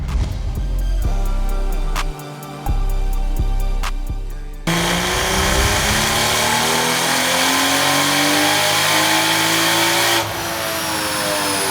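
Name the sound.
BMW B58 engine car revving during dyno pull at 20 PSI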